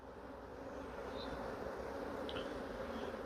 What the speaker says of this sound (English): So I'm going to shake these bees off.